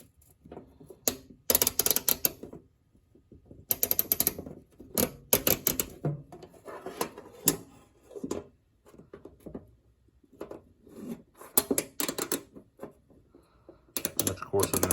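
A Genius flex-head ratchet with coarse teeth rattles through bursts of sharp clicking, several quick runs separated by short pauses, close and fairly quiet, with someone speaking between them.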